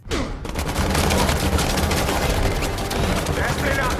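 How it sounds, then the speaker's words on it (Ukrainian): Rapid, sustained bursts of gunfire from the film Black Adam crackle densely and loudly, a continuous volley of overlapping shots. "Вони почали відразу стріляти."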